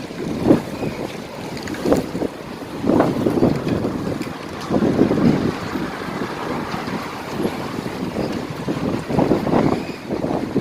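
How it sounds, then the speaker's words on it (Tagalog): Strong wind gusts buffet the microphone in surging, roaring waves, with a rumbling low-end and sustained whooshing throughout. "Ayan, humangin na ng malakas"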